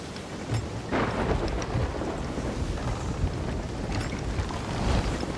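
Heavy rain and rumbling thunder from a thunderstorm at sea in the Sea of Thieves video game, a steady dense roar with low rolling booms, loud and continuous throughout.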